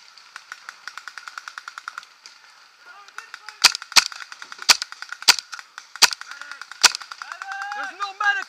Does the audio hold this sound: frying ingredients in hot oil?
no